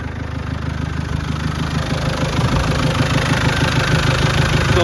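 A 1990 Land Rover Defender 110 County's 200Tdi diesel engine idling after a cold start without glow plugs, a steady close rumble with a rapid even clatter, loud and continuous with no talk.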